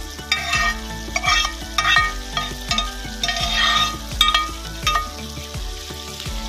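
A spatula repeatedly scrapes and stirs a mixture of egg, potato and tomato in a frying pan, with steady clattering strokes over a soft sizzle, close and fairly loud, no voices.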